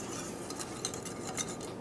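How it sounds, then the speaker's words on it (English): Spoon stirring a thickening mixture in a pot, quiet scraping and light clinks of metal against the pot, soft and close with no talking. "I'm going to stir this continuously for a couple of minutes"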